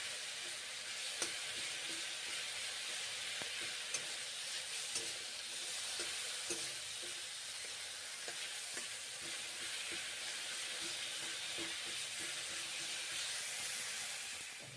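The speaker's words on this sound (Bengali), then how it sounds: "তাই ভেজে নিচ্ছি নিম পাতা" Neem leaves frying in a pan, giving a dense, even, hissing sizzle close up that holds steady throughout, with faint ticks and light stirring scrapes scattered through it and no voices.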